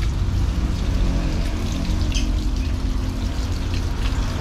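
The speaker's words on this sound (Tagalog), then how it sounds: "So ayan, hugasan uli natin ang pangalawa." Chicken pieces being washed in water in a busy home kitchen, with a steady splashing and trickling of water running throughout, close and fairly loud, without talk.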